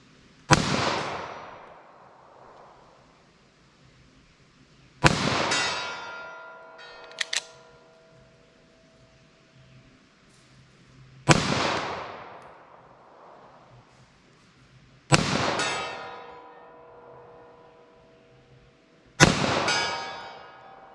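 Long-slide .45 ACP pistol fired at a target 75 yards away, giving five loud, sharp shots spaced a few seconds apart, each with a ringing decay, plus a brief metallic clang near the middle.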